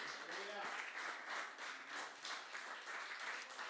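A church congregation claps along in a rhythmic, pulsing pattern, with a preacher's voice carrying over the applause.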